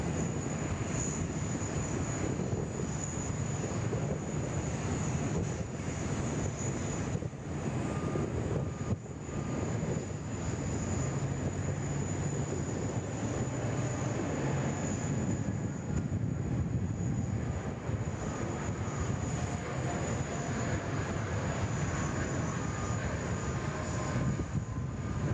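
An Air India airliner at Sydney Airport gives a steady, fairly faint jet roar that holds evenly throughout, heard from some distance with no talk.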